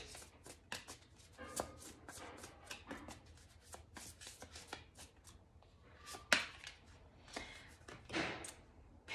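A tarot deck being shuffled by hand, with soft repeated riffles and card slaps in quick irregular bursts, close and fairly quiet, a few sharper taps standing out.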